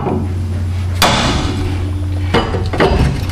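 A hammer strikes a suspension part on a Ford F-150 during installation of a DJM front lowering kit, landing two or three sharp metallic hits over a steady low hum in a workshop, loud and close.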